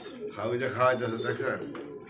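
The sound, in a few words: pigeons cooing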